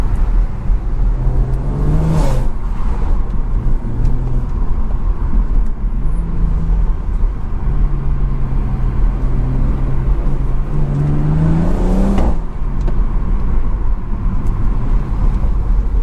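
A BMW 340i with its B58 engine pulls through a short tunnel, the exhaust note rising and falling across several gear changes, loud and close, with echoing rasp and bursts that fit crackling pops.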